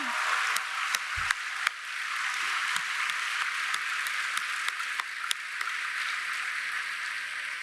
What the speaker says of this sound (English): will you join me in one more round of applause to share a heartfelt thank you?